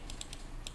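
Keys clicking on a computer keyboard while values are entered in Mastercam X8 software, four light, quick taps close by over a quiet background hum.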